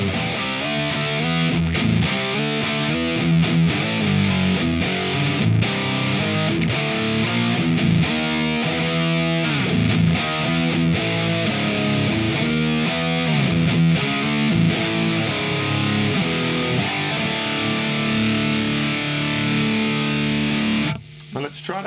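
A loud, heavily distorted electric guitar played through a neural amp simulator on a Mod Dwarf rings out with a constant high hiss underneath, then cuts off abruptly near the end.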